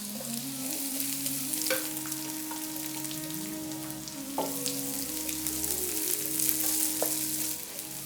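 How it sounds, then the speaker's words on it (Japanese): Onions sizzle and fry with cumin and ginger in a pan over medium heat, a steady close crackle with occasional stirring scrapes and clinks throughout, no voices. "で焦げないように香りが出たら、ここに次玉ねぎを加えていきます。"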